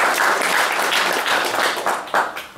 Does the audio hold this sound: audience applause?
yes